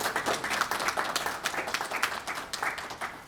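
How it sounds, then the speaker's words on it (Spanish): An audience at a poetry tribute to the Cuban poet and playwright Orlando Rossardi gives warm applause, a steady, full-room burst of many hands clapping at fairly close range, with no voices over it. "ruego de nuestro auditorio un caluroso aplauso"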